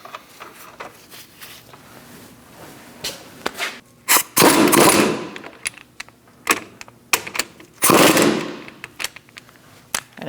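Bolts on a 2000-2006 Mini Cooper front hub assembly being snugged up, with sharp clicks and bursts of ratcheting or impact-tool rattling, close and loud in short irregular runs.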